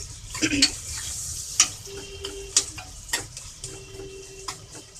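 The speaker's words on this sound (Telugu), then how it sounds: "కొంచెం ఫ్రై చేద్దాము ఆనియన్ని" Onion frying in a pan for a home-style curry, a soft continuous sizzle under repeated scraping and stirring strokes of a utensil, close and moderately quiet, with no voices.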